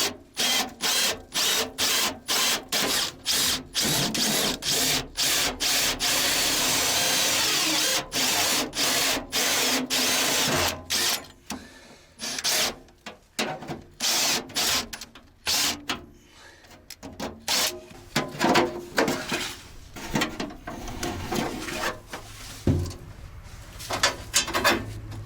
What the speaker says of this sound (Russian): Сейчас в этой стенке просверлю отверстие, чтобы просунуть мне трос.